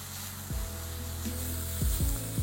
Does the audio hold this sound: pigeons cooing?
no